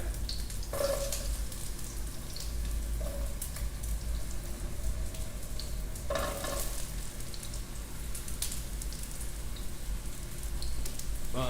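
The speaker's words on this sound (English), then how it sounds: "So, you can hear the little sizzle already." Mushrooms sizzle steadily in a hot frying pan, a continuous crackling hiss with a few louder pops and stirring scrapes, no voices.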